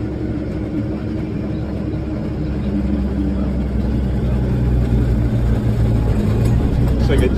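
A 1988 Versatile 936 tractor's engine rumbles steadily and loudly up close as the machine drives away, the drone swelling slightly toward the end.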